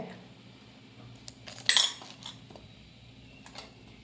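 A set of cups and a spoon clink together in one bright burst of metal-on-ceramic chimes, with a few faint taps around it in a quiet room.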